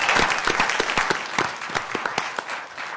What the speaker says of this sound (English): So how about a big round of applause for these individuals?